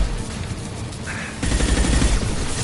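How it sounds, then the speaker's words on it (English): High-impact gunshot in Mass Effect 2, a burst of game gunfire that rises abruptly partway through into a louder, denser volley, with sci-fi weapon sounds in a combat scene. "Firing a high-impact shot."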